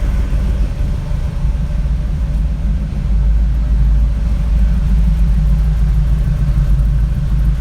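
A Chevy K10 V8 with a new MagnaFlow exhaust idles in a steady, deep, close rumble that continues evenly throughout, with no talking.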